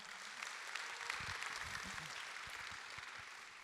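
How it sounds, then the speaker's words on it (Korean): Applause from a conference audience welcoming Go player Lee Sedol onto the stage at a fireside chat, a steady wash of distant clapping with some low rumbling thumps underneath. "그 누구보다 박수 소리가 뜨거운 것 같습니다"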